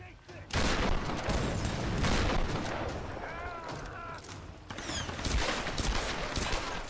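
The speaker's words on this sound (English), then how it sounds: "That guy's shooting at me." Rapid, dense gunfire from an enemy during a firefight in Tomb Raider Definitive Edition, loud and sustained with booming shots and clattering mechanisms, while a player talks excitedly over it.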